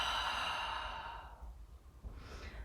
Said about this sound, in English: Full exhale out here.